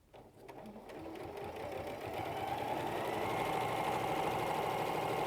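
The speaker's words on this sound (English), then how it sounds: "And then you sew all the way up to the neckline." A sewing machine stitches a seam up to the neckline of a stuffed appliqué piece, a rapid steady mechanical chatter that starts softly and builds to a constant hum, fairly close, with no talk.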